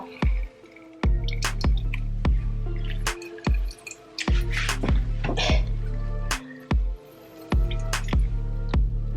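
Half a lime is squeezed by hand, giving a run of wet squishes and drips with repeated sharp clicks, fairly close and loud, with no talking.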